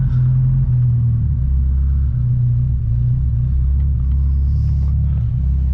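The engine of a 1972 Ford Pinto Runabout with a Motorcraft carburetor runs on its own in neutral, giving a loud, close, steady low rumble with a faint rhythmic idle throb throughout.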